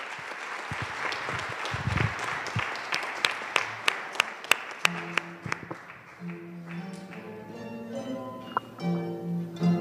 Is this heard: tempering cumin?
no